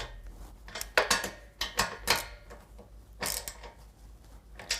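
A ratchet with a 14 mm socket tightening carriage bolts into serrated flange nuts on N-Fab running-board brackets of a 2007-2019 Toyota Tundra CrewMax, irregular bursts of clicking and metallic rattles, close, with pauses between strokes.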